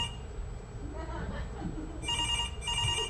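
A telephone rings on stage during a musical theater performance, two bright electronic ring bursts over a low murmur of room noise.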